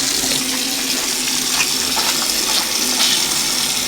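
Tap water runs in a steady, close gush as children rinse muddy hands at a sink, the flow continuous and fairly loud with no talk over it.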